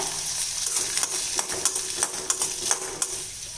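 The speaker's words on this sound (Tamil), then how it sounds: "இப்போ கொத்தமல்லியை கொஞ்சம் தனியாக நான் இந்த மாதிரி வறுத்துக்கிறேன் எண்ணெயிலேயே" Coriander seeds fry in oil in a pan for onion chutney, crackling and sizzling with quick scraping stirs and light metallic clicks in an irregular rhythm, close and clear without talk.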